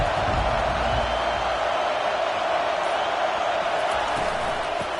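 Steady, dense roar of a college football stadium crowd at Colorado vs Iowa, continuous and loud throughout with no distinct peaks or pauses.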